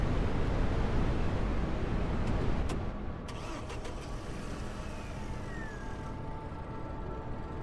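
Engine of a car in the zombie survival game HumanitZ catches and settles into a steady driving hum, with a broad wind-like roar of a blizzard fading into the background after about three seconds.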